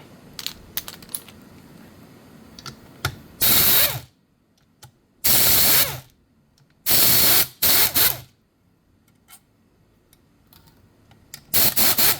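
Ratcheting socket wrench loosening four tight 5/16 bolts on a Delco Remy 10SI/12SI alternator, heard as several loud bursts of clicking separated by pauses, with small tool clinks and handling noises between them.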